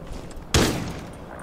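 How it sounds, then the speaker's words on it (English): One sharp, loud shotgun blast in Rainbow Six Siege cracks out mid-moment, then trails off in a short reverberant tail over quiet game ambience. "Why did you use a shotgun though?"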